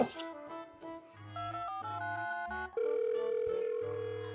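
A phone call tone ringing, steady synthetic beeps and tonal pulses that shift pitch in a repeating pattern, moderately quiet and alone with no talk over it.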